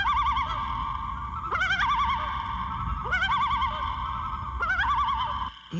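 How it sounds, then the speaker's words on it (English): A loon calls out in wavering, rising tremolo phrases, three or four long yodel-like cries repeating every second or two, clear and fairly close over a steady low background rumble. "This is a loon."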